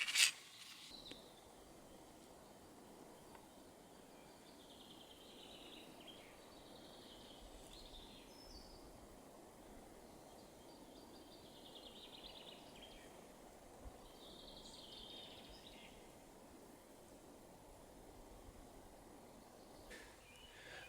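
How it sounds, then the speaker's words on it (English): Birds call intermittently in quiet, still Scottish countryside, faint chirps and short song phrases scattered over a soft rustling background, with no one speaking. "Hear plenty of birds, don't see a thing."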